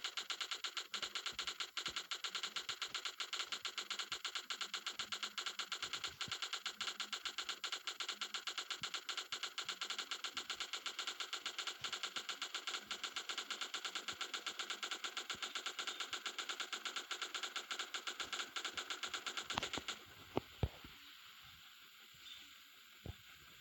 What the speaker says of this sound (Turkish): Silah sıkıyorum